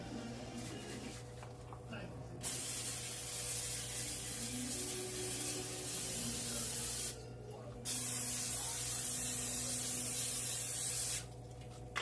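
Spray bursts misting onto pleated beef empanadas before baking in a home kitchen, long steady hisses with short gaps between them over a low hum, with quiet talking in the background.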